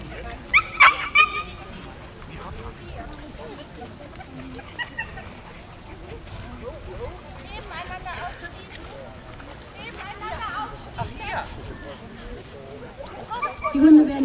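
Dogs at an obedience training demonstration at a town market event give scattered barks and yips with some whimpering, loudest near the start and end, over a steady outdoor crowd murmur and talk.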